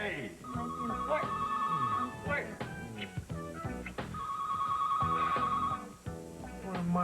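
A telephone bell rings in two long bursts under background music, loud and close, with a short pause between rings.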